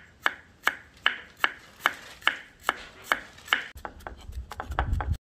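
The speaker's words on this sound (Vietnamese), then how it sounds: "Phần tỏi này thì mình sẽ băm nhuyễn ra nha các bạn." A kitchen knife mincing garlic on a board for a Vietnamese braise of canned sardines and quail eggs: about nine evenly spaced, crisp chops, then a faster, denser flurry of cuts at the end, with no talk.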